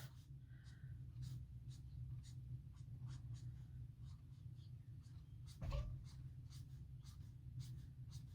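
A Copic marker's broad nib, a C3 shade, drags across paper to lay in a soft stone base for a sea floor scene, a faint steady scratchy stroking under room hum with a brief thump near the end.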